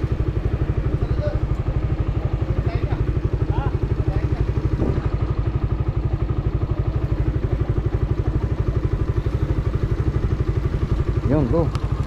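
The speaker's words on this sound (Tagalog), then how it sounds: "Kaya yung ibang motor pilit na lang sumisingit sa iba," Motorcycles squeezing through traffic on a Philippine road between Samar and Leyte: a close, steady engine drone with a rapid pulsing rhythm, brief horn-like tones near the end, and talk in the background.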